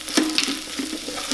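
Sabudana kichidi sizzles and scrapes as it is stirred while sautéing in an Instant Pot, soft crackling with a few brisk spoon strokes, fairly quiet and close.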